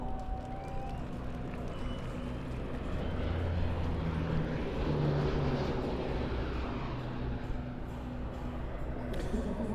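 A Polish Air Force C-130E Hercules flies a display at an airshow, and its turboprop engines make a loud, continuous rumbling drone. The roar swells toward the middle of the pass and is joined by a high whine.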